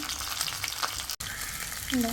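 Fish wrapped in banana leaf fries in a pan with a steady close sizzle and crackle, broken by a short silent gap, then resumes with a brief tonal sound near the end.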